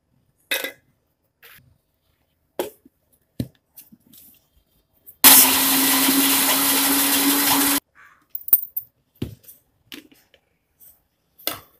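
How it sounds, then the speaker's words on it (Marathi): A kitchen mixer grinds sun-dried raw banana into flour, whirring loudly for about two and a half seconds, with scattered clicks and handling knocks of the jar before and after. "आपण हिला आता मिक्सरमधनं पीठ करून घेऊया।"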